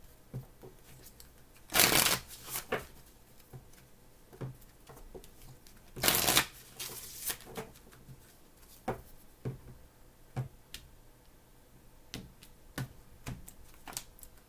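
Tarot cards are shuffled by hand in two louder riffling bursts, followed by softer scattered taps and flicks of the cards, close and quiet, with no talking.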